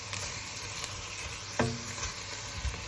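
Onions and garlic fry in a pan for a Cape Malay mince beef curry, a constant close sizzle with a single sharp clink of a spoon against the pan and a few soft stirring scrapes, no talking.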